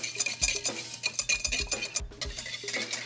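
Mayonnaise and white wine vinegar being stirred together into a slaw dressing, producing irregular scraping and clinking strokes of a utensil against a bowl, close and fairly loud, with no talking.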